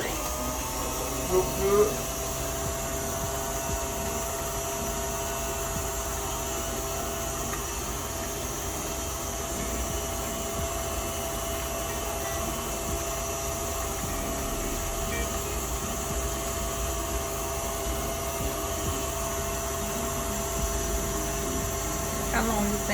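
A steady electric mixer whirs without pause while beating sugar cookie dough, a loud, even motor drone close by, with a few brief spoken words near the start.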